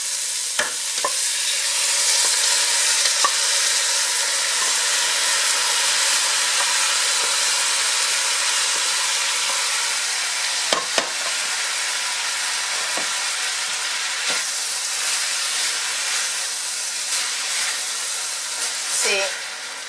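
Pre-cooked ground beef sizzles and fries in a pan with aromatics for egg roll filling, a steady loud hiss with occasional stirring clinks and scrapes throughout.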